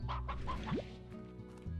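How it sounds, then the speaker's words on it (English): Hen from the Slime Rancher video game clucking in a series of short, moderately loud repeated clucks, with other farm-game ambience continuing beneath. "I will take one hen."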